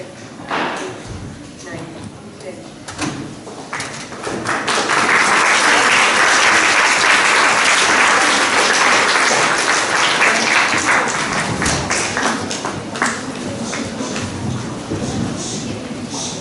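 Loud applause from a large school audience at a middle school elocution contest swells after a few seconds and holds steady, a dense wash of clapping with some voices mixed in.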